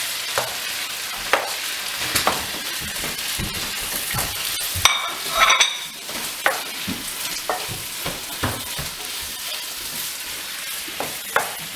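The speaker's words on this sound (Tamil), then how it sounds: "Saute the tomatoes until they are nicely cooked." Tomatoes sauté in an oil-sizzling pan for Tamil Nadu-style chicken curry, with a steady loud fry and repeated scrapes and clicks of a stirring spoon throughout, and no voices.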